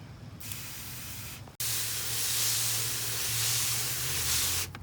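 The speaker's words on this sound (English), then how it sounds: "So we're just going to gently spray." A fine mist from a garden hose sprays onto newspaper in a steady, soft hiss, paused briefly, then resumes for several seconds, close by and fairly quiet.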